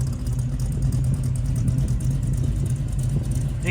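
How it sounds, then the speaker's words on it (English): A 1967 Chevelle SS 396 with a 4-speed lets out a deep, steady exhaust rumble, a low throaty drone heard close and continuous throughout. "Exhaust sounds great too, don't it?"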